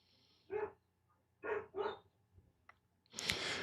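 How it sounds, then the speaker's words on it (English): Dogs bark a few times at a distance, short separate yelps spread across a quiet background, followed by a louder burst of noise. "What are my dogs barking at?"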